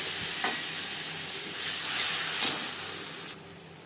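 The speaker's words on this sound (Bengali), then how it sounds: "কালো জিরে ভেজে নেওয়ার পর দিয়ে দেব টমেটো ও কাঁচা লঙ্কার পেস্ট" Tomato and green chili paste sizzles and hisses in hot oil left from frying fish, with black cumin seeds already in the pan, a steady bright frying sound with a few stirring scrapes.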